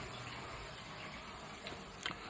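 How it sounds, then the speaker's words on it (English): A tap runs steadily into a sink as a constant, close hiss of flowing water, with a faint clink near the end. "I know the water is loud."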